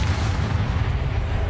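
Spell blasts from Bombarda and Confringo in Hogwarts Legacy, heard as a continuous heavy low rumble of booming explosions with no clear gaps, loud and close.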